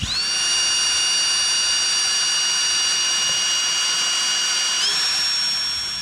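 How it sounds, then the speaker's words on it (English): A steady high-pitched whine of a step bit drilling a 12 mm hole in a metal vehicle frame, running continuously and loud throughout with a slight pitch shift near the end. "we're going to drill the hole out to 12 millimeters"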